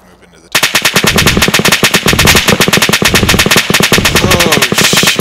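Loud, sustained machine gun fire from a technical in a military video game, with rapid continuous bursts starting abruptly and dense echoing shots throughout.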